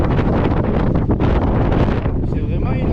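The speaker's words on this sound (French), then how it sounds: "il y a un peu de vent" Wind buffets the microphone on an old, deserted road, a loud continuous low rumble and rushing roar that persists throughout with slight gusting.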